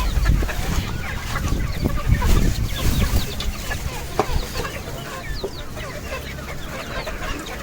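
Chickens clucking and scratching close by while being fed fresh spinach, steady soft clucks and scuffling throughout with no talk.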